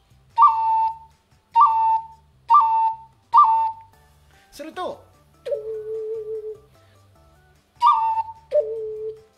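An ocarina plays fast la-re-la grace notes: a run of short, clear whistle-like phrases, each a quick flick into a held note, repeated several times with pauses, and someone briefly speaks between them.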